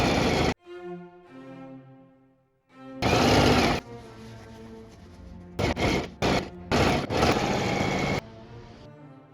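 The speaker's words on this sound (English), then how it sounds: "Then I stitched the sides and attached the bottom" A sewing machine stitches the sides of a fabric bag in several loud, close bursts of rapid mechanical whirring, separated by pauses with quieter hum and clicks.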